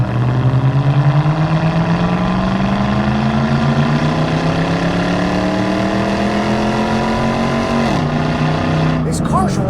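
A 1998 Pontiac WS6 with an LS1 V8 and 4L60E automatic accelerating hard on a test drive, engine drone rising steadily in pitch before a gear shift drops it, then climbing again, loud and close from inside the car.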